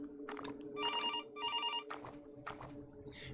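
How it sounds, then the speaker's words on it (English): A kitchen telephone rings in two quick bursts of an electronic bell, loud and close against a quiet background, as a sound effect in a spooky Halloween story. "the kitchen phone began to ring"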